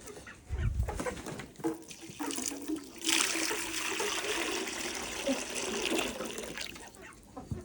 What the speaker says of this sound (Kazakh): Осы ыдыстың ішіне су құямыз.